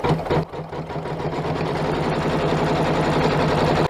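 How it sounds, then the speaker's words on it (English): An embroidery machine stitching lining onto a recycled denim zippered pouch in the hoop, a loud steady rapid mechanical hum and needle chatter running continuously, close up with no voices. "we return the hoop to the machine and stitch out colorway 5 to hold that lining down"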